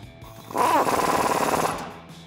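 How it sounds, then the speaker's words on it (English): Rapid pulsing rattle of an impact wrench driving a 19mm socket onto the bottom nut of a Jeep Gladiator JT's rear suspension spacer lift, a loud sustained burst of about a second that tails off. "Then we can tighten down this bottom nut with a 19mm socket"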